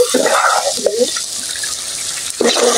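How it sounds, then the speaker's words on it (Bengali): Water splashes and gurgles into a pot of chicken cooking with potatoes and whole spices. The pour runs loud and close, then settles into a hissing simmer before another gush near the end. "মুরগিটা আমি একটু পানি দিয়ে দিব"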